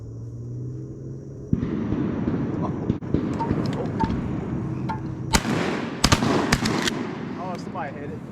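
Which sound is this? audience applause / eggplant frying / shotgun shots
shotgun shots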